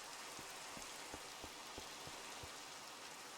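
Steady rain hisses in Minecraft as a constant, even wash of noise, with soft low thumps ticking through it at a regular pace, faint throughout.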